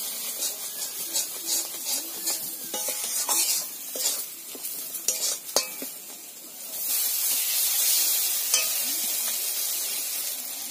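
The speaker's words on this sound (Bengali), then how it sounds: "এবার একসঙ্গে নেড়ে ফেলে আবার আমি ভালো করে কষে নেব।" Turmeric and chili powder with spices being stirred and fried in a pan for a bottle gourd fish curry: scraping strokes and clatter at first, then a louder, sustained sizzle, with no talking.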